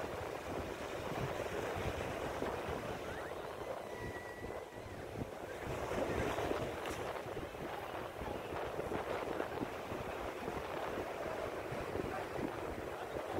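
Sea waves break on a beach in Puducherry, making a soft, continuous wash of surf with wind noise throughout, fairly distant and low in level.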